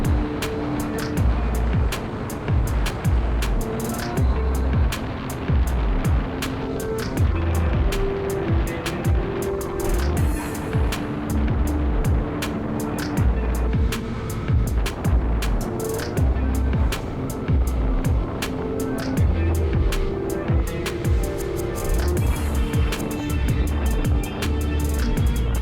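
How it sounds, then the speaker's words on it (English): A new rider on a first street bike cruises through town on a sunny day. A steady, dense roar of engine and rushing wind runs loud and unbroken throughout, with no voices. "I ride my motorcycle."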